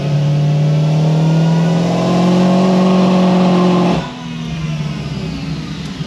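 A supercharged car engine revs hard through a loud, sustained full-throttle pull with a steadily climbing tone, then drops off abruptly into a lower idle-like drone.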